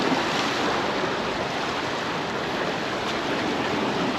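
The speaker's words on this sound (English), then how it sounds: "A bit more choppy here, isn't it? Splashing up and down." Choppy sea waves splash and wash continuously at Illetas beach on Mallorca, a steady, full, close roar with no voices.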